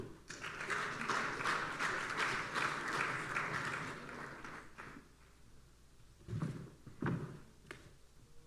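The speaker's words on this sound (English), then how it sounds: "Shall we do a big round of applause" An audience at an economic forum claps in a fairly faint, steady round of applause that fades out after about five seconds, followed by a few separate knocks and thuds.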